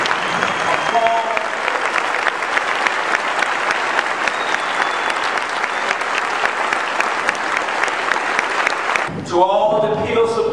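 Rousing applause from a fraternity gathering during an acceptance speech, loud sustained clapping for about nine seconds that ends abruptly before a voice starts talking.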